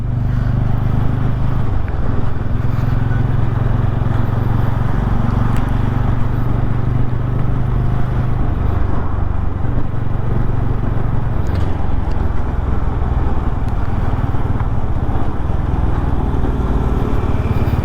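A TVS Ronin motorcycle runs through a mixed city and highway ride. Its engine gives a steady loud rumble with constant wind roar, slight shifts in pitch, and no talking.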